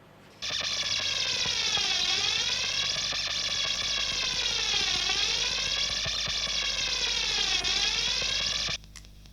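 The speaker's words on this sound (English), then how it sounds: "I'll show you those two now, what sort of noises those two make with the filter and regulator" DIY guitar effects pedals run through a filter and regulator hiss and whine with loud self-generated noise: a sustained tone sweeping slowly up and down in repeating arcs, starting abruptly and cutting off near the end.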